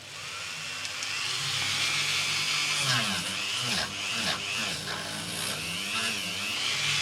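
A Dremel rotary tool with a small attachment grinds on scrap wood, a continuous high whine with wavering pitch as it bites and eases, close and fairly loud throughout, with no voices.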